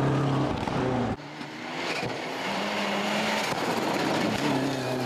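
A rally car on a gravel stage in Otago, its engine suffering a misfire, roars loudly close by, cuts out abruptly for a moment, then picks up again with an uneven, straining note.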